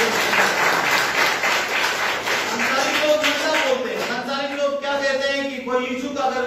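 Congregation clapping during a Hindi sermon, rhythmic group applause with distinct claps in the first half, then fading under a voice and crowd murmur.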